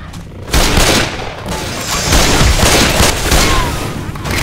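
Rapid gunfire from Left 4 Dead 2 fills the scene, a dense, loud stream of shots and booming blasts with game voices talking over the firing.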